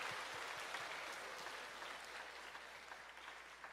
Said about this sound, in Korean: 환영의 박수 한번 하겠습니다